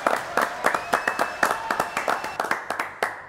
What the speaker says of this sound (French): On l'applaudit d'ailleurs